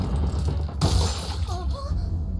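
Glass shatters in a loud, sudden burst that crashes in and then fades into scattered tinkling, over a low background rumble in an anime episode.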